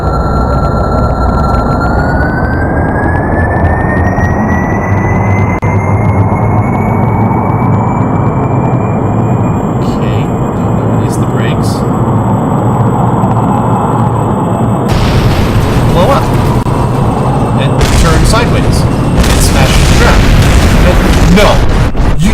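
Steady jet engines rumble and whine in Kerbal Space Program, a broad continuous roar with a slowly rising tone, joined near the end by louder bursts and crackle.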